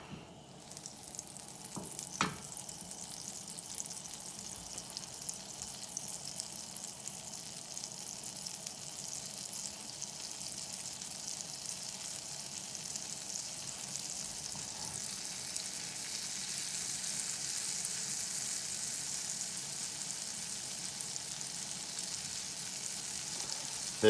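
Butter and olive oil sizzle in a pan over a high burner, a steady crackling hiss that builds gently over time, with one brief clatter near the start and no voices.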